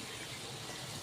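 Spiced masala water pours into a pan of stuffed round gourd (dhemse) cooking Nagpur style, a brief, steady, fairly quiet gush of liquid with no voices.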